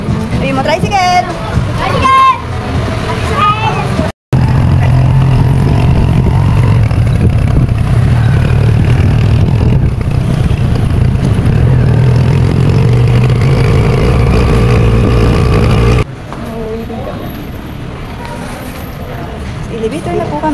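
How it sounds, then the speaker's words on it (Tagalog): A motorized tricycle idles nearby on a street, a steady low engine rumble running under chatter and passing traffic, with a brief dropout partway through and quieter surroundings near the end. "Ayun mo, tricycle!"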